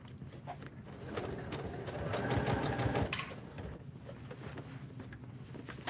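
A sewing machine stitches a quarter-inch seam around a fabric circle for a water bottle holder, running in a steady close mechanical whir that speeds up midway, then slows and stops.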